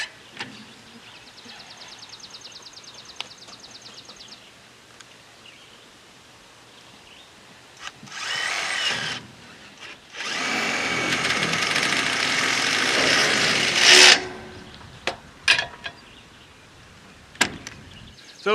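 A drill drives 1.5-inch tech screws into a channel holding polycarbonate sheeting on a high tunnel arch, giving several close whirring bursts of varying length separated by quieter pauses.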